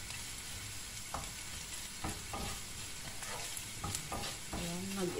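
Salmon frying in a hot pan while being stirred, with a steady close sizzle broken by several distinct scraping strokes of the utensil against the pan.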